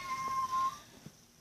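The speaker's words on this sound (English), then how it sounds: "Those cats are going crazy." A cat gives a short meow in the first half-second, then the sound quiets to low background noise with a faint click.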